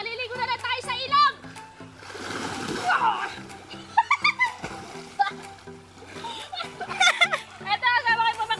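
Children splash and play while bathing in a river, with bursts of water sloshing and splattering mixed with excited kids' voices and chatter throughout, close and lively.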